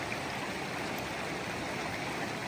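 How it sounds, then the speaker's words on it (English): Continuous rushing water of Slickrock Creek in the Joyce Kilmer Slickrock Wilderness, a steady broadband wash of flowing stream with no pauses or voices. "First crossing of Slickrock Creek."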